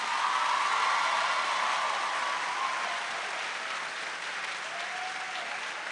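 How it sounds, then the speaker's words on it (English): Sustained audience applause fills a hall at a white coat ceremony, dense and even, loud and close, slowly easing slightly over several seconds. "Please give yourselves another big round of applause."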